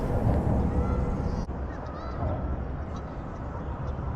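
A goose honks somewhere near a fishing spot, its calls faint and buried in a loud, continuous rush of wind or water noise.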